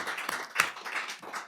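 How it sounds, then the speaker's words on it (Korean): A small audience at a Korean press forum luncheon claps briefly, a few uneven hand claps at modest volume with one sharper clap standing out. "박수 한번"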